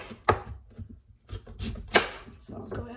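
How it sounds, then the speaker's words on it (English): A knife chops through fresh peeled sweet potatoes into roughly one-inch chunks on a board, a few sharp irregular cuts spaced apart, close and fairly quiet, with a voice talking between them. "I have peeled two sweet potatoes. It'll be plenty for the two of us, probably have leftovers, and I need to cut them into about 1-inch"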